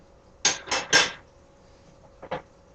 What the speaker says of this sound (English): that second cup of broth to the risotto, and we're going to continue to stir